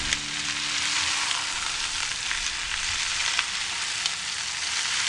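Chicken pieces, about 500 grams, fry in a pan while being stirred, giving a steady, loud, close sizzle with occasional scraping clicks throughout and no talking.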